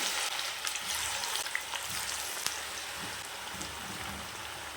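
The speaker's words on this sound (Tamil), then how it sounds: "இதை எடுத்து இந்த எண்ணெயில் போட்டு பொரிச்சுக்கலாம்" Half-boiled yam pieces deep frying in hot oil, a steady dense crackling sizzle with scattered pops, close and continuous throughout.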